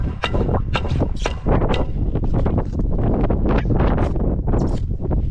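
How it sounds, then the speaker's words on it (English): Strong wind buffets the microphone outdoors at a house construction site in loud, continuous low rumbling gusts, with rustling bursts throughout and no pause. "It's a little windy out here today"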